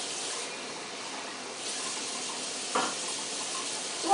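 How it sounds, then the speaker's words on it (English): Quinoa being rinsed in a pot under a running tap, a steady close hiss of flowing water with one brief knock against the pot partway through. "Again, we're going to make sure the water runs clear."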